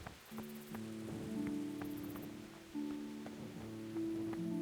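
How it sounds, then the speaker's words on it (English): Rain pours steadily in the medieval open world of Kingdom Come: Deliverance, a soft, continuous hiss beneath sustained, resonant game music tones throughout. "Oh. Raining."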